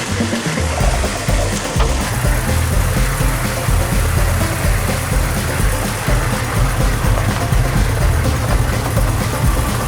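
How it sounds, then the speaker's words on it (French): A naturally aspirated V8 diesel in a 4x4 runs as a steady, loud low rumble that continues without a break, close by, with no voices. "on est sur un V8 atmosphérique diesel"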